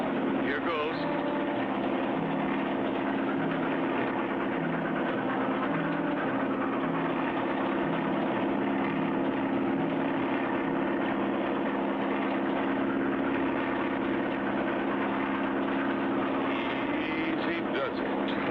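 A cartoon airplane drones steadily while flying low over a runaway train, its engine a constant, even hum running unbroken throughout with no pauses.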